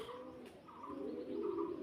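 Fancy pigeons in a loft give soft, low cooing calls, a few rolling coos close by over a quiet background.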